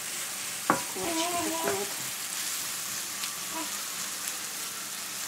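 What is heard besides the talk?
onion being stirred and fried in a pan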